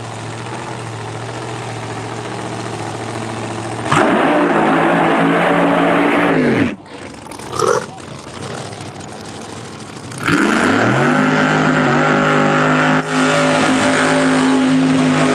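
A nitrous drag racing car idles with a loud, rough rumble, then revs sharply and accelerates hard, dips briefly, and roars up again to a sustained high-pitched howl close by.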